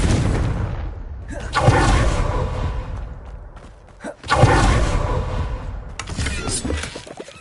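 Two heavy Confringo blasting spell explosions boom in Hogwarts Legacy, each a sudden loud burst that rumbles and fades over a couple of seconds, the second landing around the midpoint before a further impact near the end.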